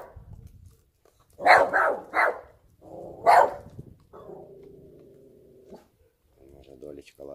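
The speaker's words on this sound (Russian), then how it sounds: "Уже Долечка лает, там кто-то ходит" A dog at home gives a few sharp barks in quick succession, then a softer whine, close and loud against a quiet room.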